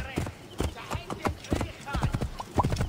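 Donkey hoofbeats from Assassin's Creed Origins, a steady run of clip-clop steps in the game, heard under ongoing speech and game sounds.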